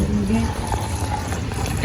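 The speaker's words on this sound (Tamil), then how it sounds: "தண்ணி விட போகிறோம்." Water pours steadily with a gushing, splashing wash, while a voice talks briefly over the flow.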